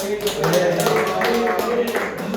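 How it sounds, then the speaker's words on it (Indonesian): Short burst of classroom clapping for a student group during a micro-teaching lesson, close and fairly loud, with talk and some tapping mixed in. "Tepuk tangan buat kelompok 3."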